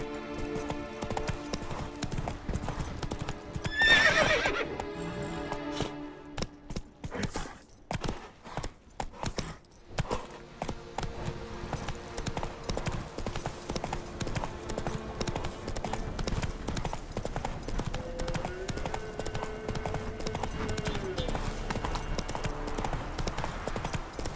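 Roach the horse trots in The Witcher 3, a continuous rhythmic clip-clop of hooves over ambient game sound, with brief louder effects near the start.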